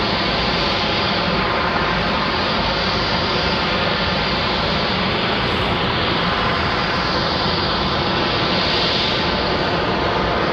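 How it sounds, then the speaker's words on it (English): Spirit Airlines jet airliner taxiing at Raleigh-Durham International Airport, a steady loud broadband engine roar sustained throughout without pause. "Spirit Airlines on the move."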